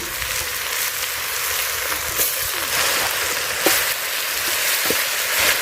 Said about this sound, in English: So I always first add in the chayotes when the oil is that hot